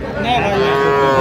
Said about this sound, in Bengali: বকনা বাচ্চা